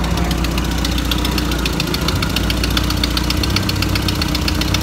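Crusty Crawler truck engine idling roughly with a massive exhaust leak from a cracked header, a steady loud close-up rumble with a ticking, knocking patter running throughout.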